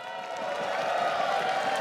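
The crowd in an esports arena at the League of Legends All Stars 2015 1v1 final applauds and cheers in a steady, continuous roar, with a voice talking over it.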